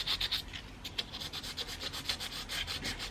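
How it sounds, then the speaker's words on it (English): Sandpaper rubbing roughness off the top of a 2006 Suzuki GSXR 600 K6 motorcycle fairing under repair, a close, steady run of rapid scratchy back-and-forth strokes with no talk. "So I'm just taking the roughness off the top, and then I'll come in with a nicer sandpaper in a bit."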